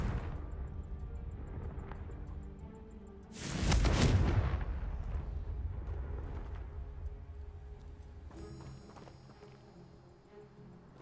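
A Confringo fire spell explodes in Hogwarts Legacy: one loud, broadband blast with a rumbling tail that fades over several seconds, set against a steady game ambience, with a brighter shimmer rising near the end.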